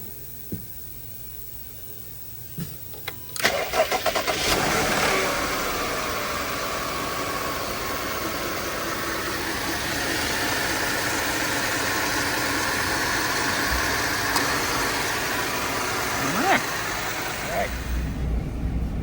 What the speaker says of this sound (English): fire it up, turn the heat on.